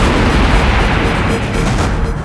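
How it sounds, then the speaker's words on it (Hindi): A bomb explodes inside a house in a TV crime drama, producing a dense, loud, continuous roar of rumbling blast noise that fills the whole span without any voices. "वहां एक घर में बॉम्ब विस्फोट हुआ है।"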